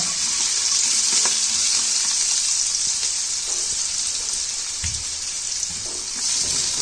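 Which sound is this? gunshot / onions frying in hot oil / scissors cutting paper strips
onions frying in hot oil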